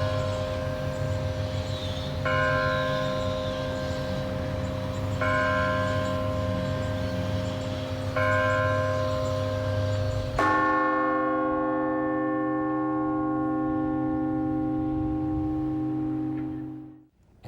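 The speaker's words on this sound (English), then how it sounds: "It rings to answer the sound of all the carillons out at the mall." Bells ring at Bicentennial Mall Park, struck in a steady pattern about every three seconds. A final strike rings out loudly and decays slowly into near silence.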